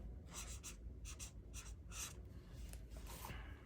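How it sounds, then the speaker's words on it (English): A pen writes in a planner, making soft, close scratching strokes in short repeated bursts with brief pauses between them, and there is no talking. "I think I want to write January up here with pink, or maybe right here."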